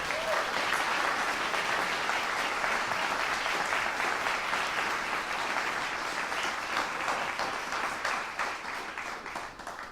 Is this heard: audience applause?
yes